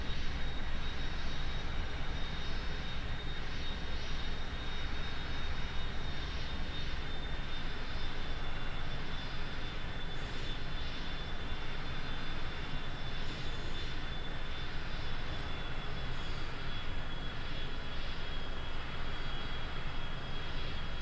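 Steady, continuous roar of a T-38 Talon jet engine in a flight simulator game during an instrument landing approach, loud and unbroken for the whole stretch with a thin high whine on top and no talking.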